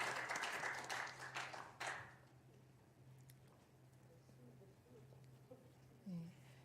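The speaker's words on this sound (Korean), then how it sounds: "하나님께 영광의 박수 올려드리겠습니다" Brief congregational clapping at a Korean Wednesday church service, a short burst of applause that stops after about two seconds, leaving a quiet room with a low hum and faint voices.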